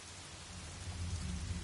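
Steady rain with a low rumble of thunder in the video game Project Zero: Maiden of Black Water, a continuous wash of falling water heard alone with no voices.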